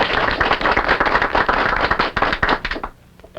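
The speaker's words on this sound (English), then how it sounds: "Do I hear your applause?" A studio audience at a 1951 live television puppet show claps in a dense burst of sharp hand slaps, loud at first, then thinning and dropping away to near quiet at the end.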